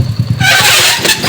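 A motorcycle engine running close by, loud and pulsing with a quick chugging rhythm that rises into a rev.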